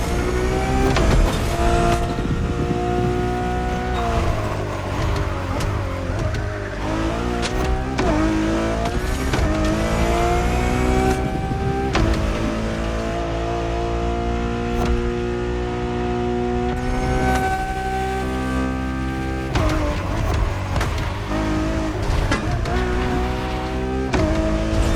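Ferrari Enzo engine in The Crew Motorfest, a loud, continuous throaty drone that rises and falls through gear changes and revs, close and steady throughout with no talking.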